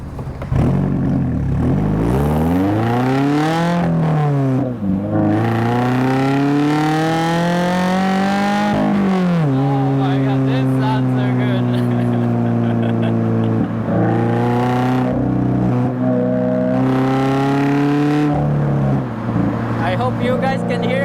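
A Toyota GR86 fitted with an AWE Touring exhaust accelerates hard up a freeway entrance, engine note climbing through the revs, dropping at each upshift and climbing again, loud and close throughout.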